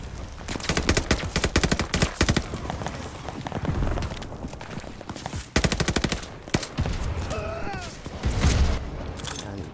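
Enemy soldiers in Call of Duty: Vanguard unleash rapid machine-gun fire, loud, close rattling bursts repeating in quick volleys across the scene, with a few distant whizzing effects and a voice talking underneath.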